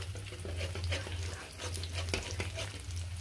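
Frying in oil in a pan: a continuous close sizzle with crackling pops and scraping stirs over a low steady hum.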